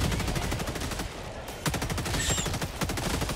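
Rapid automatic gunfire from weapons in the Helldivers 2 video game, continuous close rattling bursts filling the whole stretch with a few sharper shots among them.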